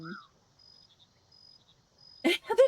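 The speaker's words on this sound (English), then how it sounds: "It's very soothing to just have like the crickets and the, you know, like the background ambient noises." Crickets chirp in a soft, steady background ambience in the video game Mudborne, thin high trills under a quiet scene, before a voice briefly speaks.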